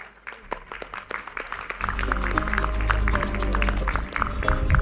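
A conference audience at a Rotary district event in Entebbe, Uganda claps: scattered separate claps at first, then swelling into full, steady applause from many hands that stays loud and close to the end.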